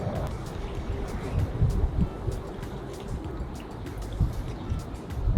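Water poured from a Canadian ration pack onto chocolate protein powder, giving a low gurgling trickle that runs for a few seconds at close range, with quiet background noise and no clear speech.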